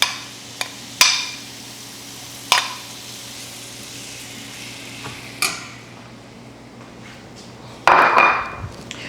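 Peppers and seasoning tossed into a pot of étouffée cooking down, a few sharp clinks and taps over a steady low sizzle, then a louder burst of frying near the end.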